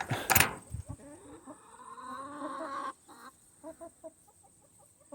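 Laying hens in a backyard coop cluck close by in a series of short, uneven, throaty calls, with a louder squawk at the start and softer clucks following, and no talking.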